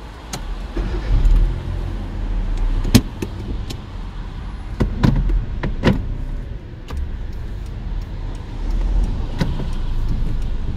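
A car being driven on a driving test course, with a steady low road and engine rumble inside the cabin and scattered sharp clicks and knocks. No one speaks.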